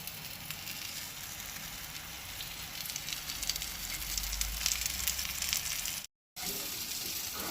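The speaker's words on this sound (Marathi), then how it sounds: "आतां ते बांगडे कायलीचेर घालता।" Mackerel coated in semolina frying in coconut oil in a pan, a loud steady close sizzle and crackle that swells slightly, then drops out briefly before resuming.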